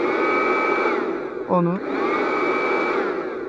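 A Piranha PVC-4004 car vacuum cleaner, plugged into a car's lighter socket, runs at a steady whine throughout while someone briefly speaks over it.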